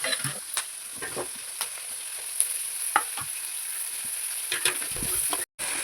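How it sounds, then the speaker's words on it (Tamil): Onion and garlic sauté in a pan as the base for a fish curry, a steady hiss of sizzling oil broken by scattered scraping stirs of the spoon, close and continuous with no voices. "வெங்காயம் பூண்டு நல்லா வதங்கினதும் தக்காளி சேர்த்துக்கலாம்"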